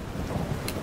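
Steady heavy rain pours down with a low rumble of thunder beneath it and a brief sharp crackle near the end, no voices.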